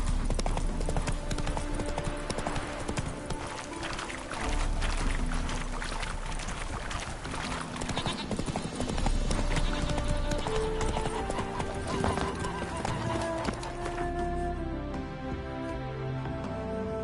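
Roach, a horse in The Witcher 3, gallops with a fast, rhythmic clip-clop of hooves close up and an occasional whinny, layered over game music and ambience.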